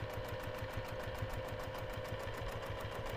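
A sewing machine stitching along a drawn curved line on a bag project, running as a steady, fast mechanical whir with a rapid regular needle rhythm and a constant motor hum, close and fairly quiet, with no talk.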